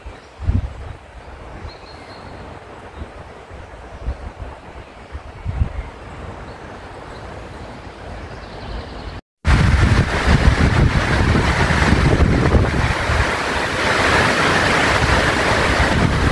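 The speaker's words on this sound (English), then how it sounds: "This wind is starting to get a bit crazy." Strong wind from a storm buffeting the microphone at a wild campsite with a vintage tent, a low roar starting moderate and then abruptly growing much louder and more turbulent.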